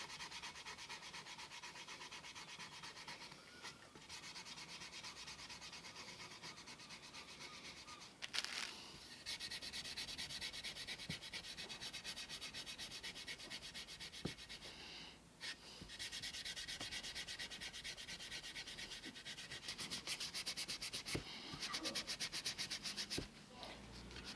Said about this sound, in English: So just dab him in and give him a rub.